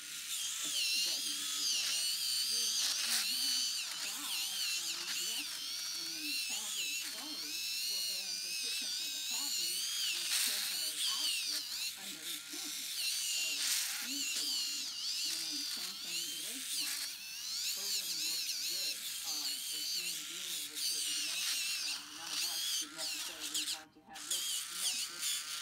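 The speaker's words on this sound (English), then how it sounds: "if you don't want to see me filing my feet, look away" An electric foot file buzzes steadily against the skin of the feet, a faint high whirring that pulses as it is moved, with a person talking over it throughout.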